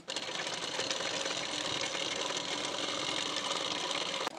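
A sewing machine runs in one steady burst, stitching along the edge of a blouse waistband strip, a fast even whir that stops abruptly at the end.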